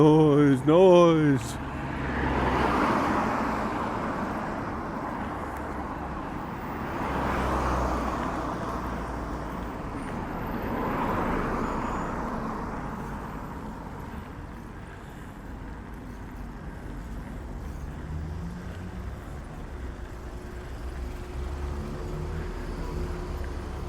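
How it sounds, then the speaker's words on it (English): Steady road traffic noise with cars passing in swells, a broad rumbling wash rising and fading every few seconds, with some voice sounds mixed in. "Too many cars, too much noise."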